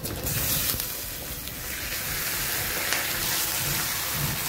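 Chicken fries in a pan with browned onions for Bengali chicken kosha, a loud continuous close sizzle with occasional stirring rustles and no voices.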